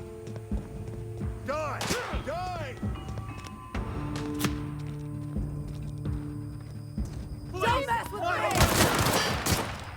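Gunfire in The Outer Worlds, with sharp shots scattered through the scene and a dense burst near the end, over steady game ambience and music while people talk throughout.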